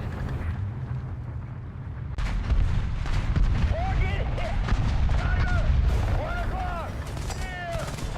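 Gunfire from a World War II style ground-forces battle video game, a dense, continuous stream of booming shots and rumbling explosions that rises abruptly after a quieter opening and persists throughout, with whistling tones over the din.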